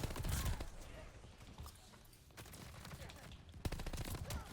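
Automatic gunfire in Call of Duty: Vanguard from a Tommy Gun and nearby enemy weapons, rattling in dense close-range bursts at the start and again near the end, with a steady hum of battle in between.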